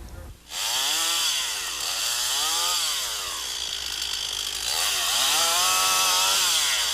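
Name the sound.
chainsaw running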